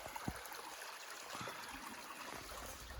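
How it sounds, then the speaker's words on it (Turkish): A small river-like stream flows near a lake in a cold, partly frozen spot, giving a steady close trickle and gurgle with a few faint knocks. "Şöyle bir küçük nehir gibi bir şey akıyor."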